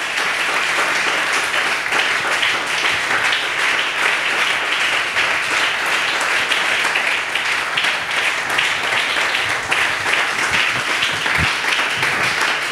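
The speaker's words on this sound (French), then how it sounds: "Est-ce qu'on peut acclamer pour ça?" A church congregation bursts into sustained, dense applause during a sermon, loud and continuous from start to finish, with many hands clapping together in a large room.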